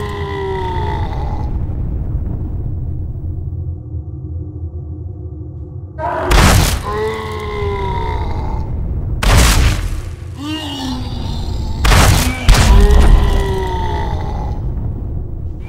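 Heavy punch impacts in the PS2 boxing game Fight Night Round 2 career mode, a haymaker knocking a fighter down: several loud thuds and crashes over a steady crowd roar with game music and commentary.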